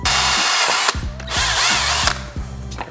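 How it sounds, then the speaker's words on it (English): A tiny drill bit bores a pilot hole into held-down 2022 Grom handlebars, the power drill whining loudly and close in about four short bursts separated by brief pauses. "use a tiny little drill bit here to try to make a little pilot hole."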